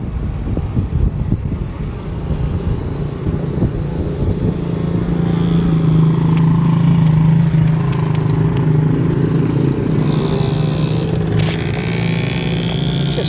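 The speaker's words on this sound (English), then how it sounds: "Just bikes everywhere. It's crazy." Busy street traffic thick with motorbikes, a loud, steady roar of engines and wind rushing past at close range, with no break in the noise throughout.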